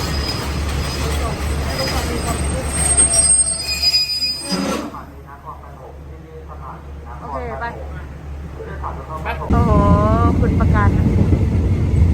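A train from Bangkok in Thailand rumbles along the rails with a squealing metallic whine, the noise dipping briefly before surging back loud; a voice talks partway through.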